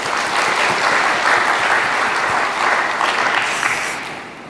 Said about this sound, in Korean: 간증하신 최남복 목사님을 고치신 하나님께 영광의 박수 올립니다